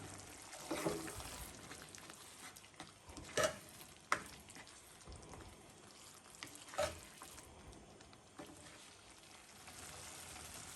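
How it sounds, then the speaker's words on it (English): Tomato sauce mixture cooking on low heat for a homemade fresh tomato pizza sauce, a soft steady sizzle with a few louder stirring clacks and scrapes of a utensil against the pot. "You want to cook this mixture on a low heat for around 5 minutes"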